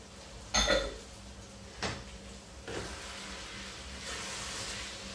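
Maize and carrots tumble into a cooking pot in a kitchen: a sharp clatter of pieces hitting metal, then a lighter knock and a softer rustling pour, fairly faint and without talk.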